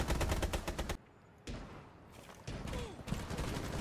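Bursts of automatic gunfire crack in rapid strings in the video game Rainbow Six Siege, a dense fusillade at the start then sporadic shots and short volleys after brief gaps, loud and close.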